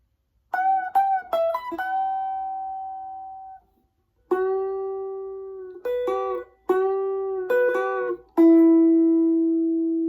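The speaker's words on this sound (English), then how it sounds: "And putting everything together so far for the second half of the solo, it would sound like this." Guitar plays the second half of the solo from a song: clear sustained single notes with slides and bends in two phrases around a brief gap, close and prominent, no voices.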